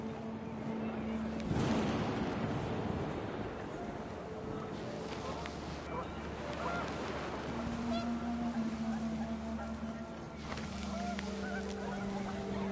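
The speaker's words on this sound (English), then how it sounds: "The wind picked up, and panicked geese appeared and quickly went." Panicked geese honk in What Remains of Edith Finch as the wind picks up, a flurry of nasal honks rising over a low windy rumble, with scattered calls fading in and out.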